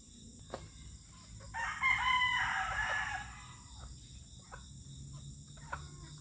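Fighting cock roosters of a game breed crowing outdoors, one clear loud crow in the middle, fainter calls around it and a faint chirping of insects in the background.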